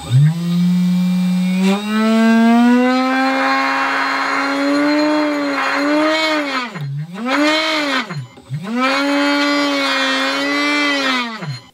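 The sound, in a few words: playing card machine gun spinning wheel at full speed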